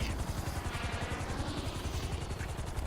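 A Valkyrie helicopter in a video game flies at speed, its rotor giving a steady, fast chopping thump that stays loud and even throughout with no talk over it.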